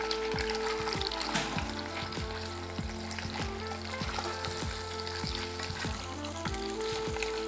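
Shrimp fry in a pan with a steady bright sizzle, and a stirring utensil scrapes and taps in a repeating rhythm, close up with no voices.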